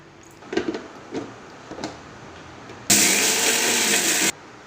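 An electric kitchen mixer grinder whirs loudly and steadily for about a second and a half after a few soft knocks and clinks of ingredients going into the jar.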